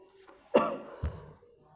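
A single sharp cough followed by a softer second one, close and brief, with near silence around it.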